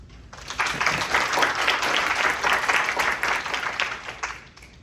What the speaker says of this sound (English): Please give Ubaid a warm round of applause.